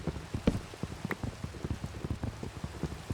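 Steady patter of rain in Minecraft with scattered individual drops tapping, close and fairly soft, no voices.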